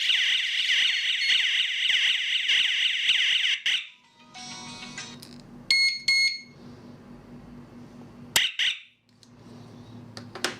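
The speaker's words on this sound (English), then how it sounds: "the SPS-260 also received the signal from alarm host and starts to hoot" A Chuango SPS-260 wireless strobe siren sounds its alarm: a loud, close, warbling electronic wail that stops abruptly, followed by short beeping bursts and brief restarts of the piercing tone.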